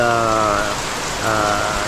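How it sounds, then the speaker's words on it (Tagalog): Heavy rain pours down in a steady, dense hiss of drops on surfaces, with a voice faintly audible in patches over the downpour. "hindi magandang panahon, no, dahil bumuhos na naman pong ulan, no."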